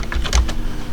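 A few quick keystrokes clatter on a computer keyboard, close and clear, in a short burst with no talking.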